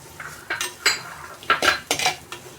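A metal spoon scrapes and clinks against a pan about six times in an irregular rhythm as onions are stirred and fried for biryani, close and fairly loud, with a faint sizzle underneath.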